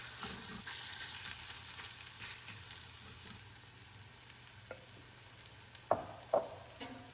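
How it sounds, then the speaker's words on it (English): Spinach chilla batter with oats and chickpea flour sizzling in butter in a pan, a steady soft fry with a few sharper crackles and pops near the end, close by and without talk. "Add the chilla batter like this to the pan and spread it."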